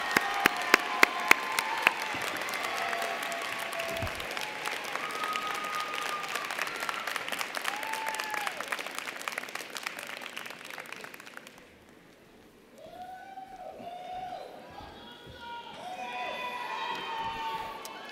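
Audience applause at a UIC College of Education spring commencement, saluting graduating Bachelors of Arts: sustained dense clapping from a large crowd that fades around the middle, then lighter scattered claps with some cheering and voices.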